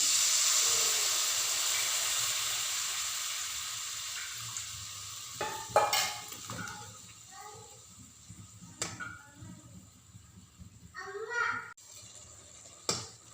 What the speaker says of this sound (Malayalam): ഞാൻ വെള്ളം ഇതിൽ പാർന്നു കൊടുക്കട്ടെ പുളിവെള്ളം